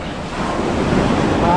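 Big river waves roll and wash near the bank in a continuous, close rumble, with wind buffeting the microphone throughout.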